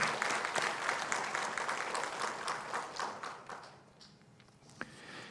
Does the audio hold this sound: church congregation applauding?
yes